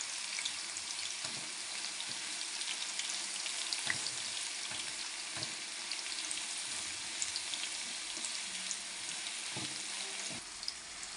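Spice mixture with garam masala and black pepper powder frying and being stirred in a pan, a steady broadband sizzle with occasional soft scrapes and clinks throughout, no voices.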